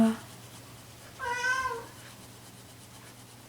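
A pet cat meows once in a short, wavering call, fairly close and moderately loud, with quiet room background before and after.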